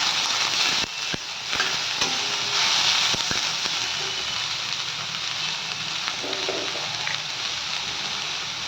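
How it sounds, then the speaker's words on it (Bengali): Thinly sliced onions frying in a pan, with a steady close sizzle under repeated stirring scrapes and a few light clicks of a utensil. "একদম পাতলা পাতলা করে পেঁয়াজটা কেটেছি, ভাজতে বেশিক্ষণ সময় লাগবে না।"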